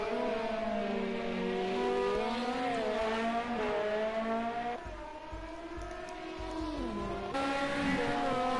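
Two Audi race cars run side by side in Project CARS 2 during a Le Mans 24-hour league race, engines droning loud and close with pitch sweeping up and down through gear changes, a brief dip mid-run.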